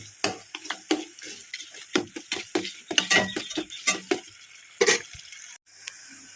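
Four green chillies frying in a pan for tomato rice, a light crackle under repeated scraping and clinking of a spoon against metal, close up and without speech.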